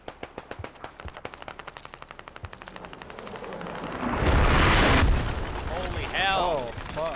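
A hell cannon firing in a PC video game: a fast run of evenly spaced, punchy shots builds into a heavier roaring blast, followed by trailing whooshing effects.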